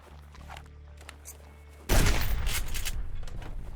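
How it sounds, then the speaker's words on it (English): A hunter's rifle shot rings out in the Subsistence survival game, a sudden loud report that cuts in after a quiet stretch, followed by a decaying rumble and background game ambience. "he's using a rifle."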